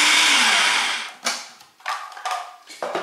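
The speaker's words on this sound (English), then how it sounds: "And pulse the machine again about 5 times." Food processor pulsing a sour cream and egg mixture for chicken pot pie dough: a loud whirring burst that winds down, then several short pulses in quick succession, close up with no talking.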